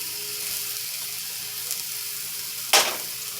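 Thin turkey slider patties sizzle steadily in a hot cast iron pan, a close, even frying hiss that runs throughout, broken near the end by a brief louder crackle.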